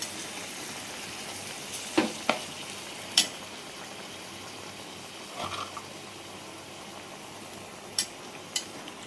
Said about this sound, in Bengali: গরম জল দিলাম ওদের সঙ্গে সঙ্গে ফুটে যাবে